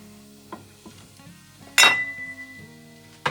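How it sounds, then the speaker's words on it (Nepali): A Nepali home cook's metal cooking pot clanks against a utensil while cumin and bay leaves go into hot oil: a loud metallic clang rings out, with fainter taps before it and a sharp clink at the end. "यो भाँडाको पार्ट चाहिँ मन नपर्ने पार्ट चाहिँ के हो भने एकदमै कराउँछ कि"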